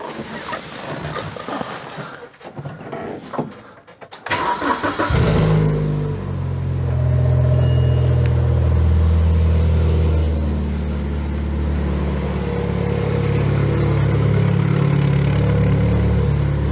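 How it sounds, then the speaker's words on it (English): A BMW 116i petrol engine cranks briefly and catches after a quiet stretch, then settles into a steady, close idle with a low, even hum. "I'm going to start the car now."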